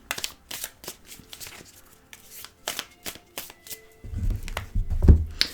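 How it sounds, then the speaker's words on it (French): Tarot cards being shuffled by hand in a series of short, crisp riffling bursts, close and fairly quiet, ending in a heavier rustle and tap as the deck is squared. "Je remélange."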